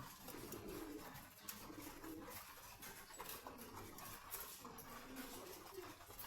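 Fantail pigeons at a pigeon farm coo in low, murmuring tones within a dense, steady flock hum, with rustling and constant background noise; no one speaks.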